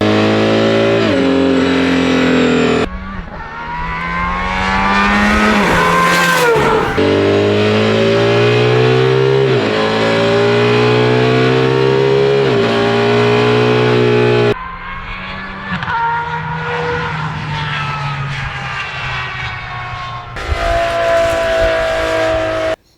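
A jet-black supercar with yellow accents revs hard on the move, its engine loud and close as the pitch climbs steadily through each gear, with sharp cuts between upshifts and a brief drop at the end.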